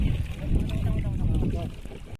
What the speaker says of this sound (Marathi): बघा कशी होडी चालवतात ते.